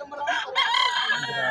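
Roosters crowing close by at a pet market in Bocaue, a loud, drawn-out cock-a-doodle-doo that rises and breaks midway, with faint clucking behind it.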